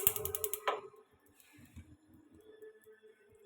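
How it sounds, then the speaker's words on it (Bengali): A gas stove burner is lit with a quick run of sharp igniter clicks at the start, followed by a faint, soft hiss and a few quiet knocks. "এখন চুলাটা ধরাই দিই"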